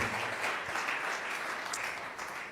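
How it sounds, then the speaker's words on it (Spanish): A church congregation applauds a welcome during a service, producing a brief, full burst of many hands clapping together at a steady, moderately loud level. "Le damos un aplauso de bienvenida a Raúl a casa"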